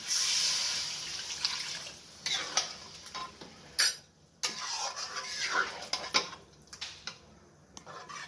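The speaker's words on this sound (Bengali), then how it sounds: "এখন আমি জল দিয়ে দেবো" Water is poured into a pan of potato curry, splashing and trickling in uneven bursts with clinks of a pot and spoon between them. No one speaks.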